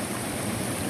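Shallow, slippery river in the Kalimantan forest, a steady broadband rush of flowing water, close and continuous with no talk.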